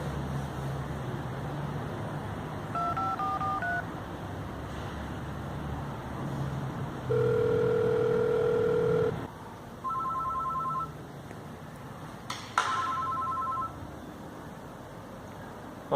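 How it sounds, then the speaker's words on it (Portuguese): Telephone dialing and ringing: a few short keypad tones, then a long steady ring tone and further shorter tones with a sharp click, heard in a quiet room with faint background hum and no talk. "Vou ligar para o meu arquiteto."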